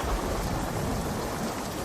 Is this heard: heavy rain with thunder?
yes